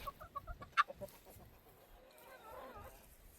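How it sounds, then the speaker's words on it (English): Chickens in a backyard coop: a few short rooster and hen clucks and calls up front, one sharp loud squawk, then quieter fowl chatter and rustling, all nearby. "Excuse the roosters being loud."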